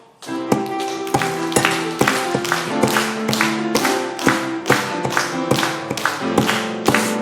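Church congregation clapping in rhythm while singing a hymn: sharp, regular claps on a steady beat over sustained musical tones, continuing evenly throughout.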